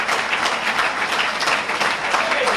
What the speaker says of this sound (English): Let's give our FOI a well-deserved round of applause.